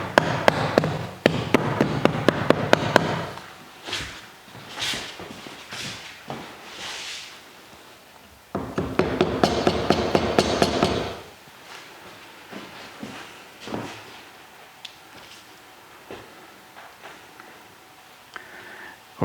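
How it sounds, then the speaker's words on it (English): A rubber mallet taps two wooden boards together in an old Victorian house, with a quick run of sharp knocks, a burst of busier knocking midway, and scattered quieter taps and handling noises. "let's take that rubber mallet there, and I'll just see if I can tap these two boards together a little better"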